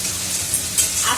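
A paste of ginger, garlic, onion and tomato hits a hot pan and sizzles, a steady, loud hiss of frying with a few soft crackles.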